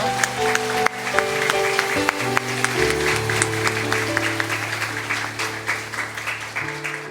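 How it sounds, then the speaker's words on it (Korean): A church congregation claps steadily throughout a Sunday service, a dense wash of applause with a low sustained musical drone underneath. "박수로 환영하겠습니다."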